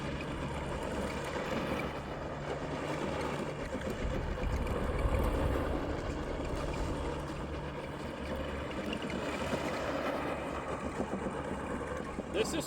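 Hart 20-volt RC truck running at low speed, a steady continuous motor and tire drone with rumbling texture, held at an even level throughout.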